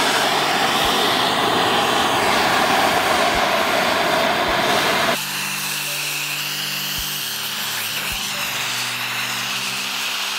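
A gas torch roars steadily as it burns a giant puffball mushroom outdoors in wind. The loud broadband rush runs for about five seconds, then drops to a quieter, steadier hiss with a low hum.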